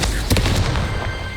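The Confringo fire spell goes off in Hogwarts Legacy, a sharp loud blast followed by a few smaller crackling bursts that fade into a low rumble.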